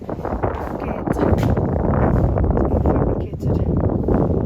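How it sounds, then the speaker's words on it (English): Strong gusting wind at a house building site in Ghana, buffeting the microphone in loud, rumbling bursts that rise and fall throughout. "As you can hear probably on the video, it's very windy."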